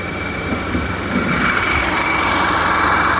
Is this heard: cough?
no